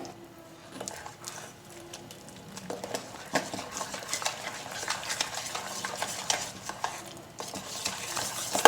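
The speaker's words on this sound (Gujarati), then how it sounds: "હવે આપણે તેને સરખું મિક્સ કરવાનું છે" Khandvi batter being stirred in a pot, with soft repeated scraping and sloshing strokes that grow busier and a little louder toward the end.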